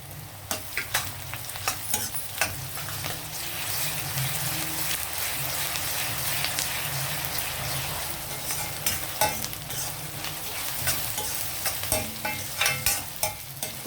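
Onions frying in oil with ginger garlic paste, a constant close sizzle punctuated by repeated spatula scrapes and stirring knocks, no talk.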